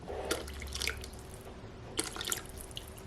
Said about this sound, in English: some of the water has evaporated as this has been cooking, so I'm going to top it off